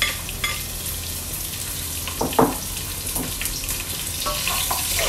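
Chopped onion and whole black peppercorns drop into garlic already fried golden in hot oil for chicken adobo, giving a steady close sizzle with a brief louder crackle as they hit the pan, then gentle stirring.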